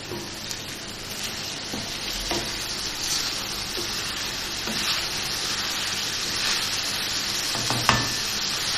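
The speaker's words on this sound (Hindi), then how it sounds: "और अब मैं इसको भूनूंगी।" Onion masala for chicken do pyaza sizzles in oil in a pan with a splash of water added, a steady close frying hiss broken by occasional spoon scrapes and taps while it is stirred.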